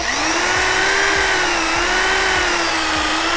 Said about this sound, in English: Probably the wrong drill bit too.